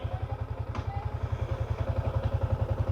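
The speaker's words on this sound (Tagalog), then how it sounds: "always preheat your motor. Kahit 1 to 3 minutes lang." A Yamaha Sniper 155R motorcycle engine idles while warming up, with a steady, rapid low thumping pulse, close by, and a brief clatter near the start.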